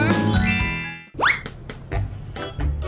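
A bright notification bell ding opens with ringing harmonic tones, then a springy boing and several short tinkling accents follow in quick succession, all up close and clear.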